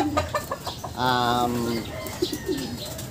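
A gamefowl rooster crows once, loud and close, with a drawn-out strained call, surrounded by short clucks and scattered bird noises.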